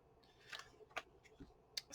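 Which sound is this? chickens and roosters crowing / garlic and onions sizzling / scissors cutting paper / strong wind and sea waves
scissors cutting paper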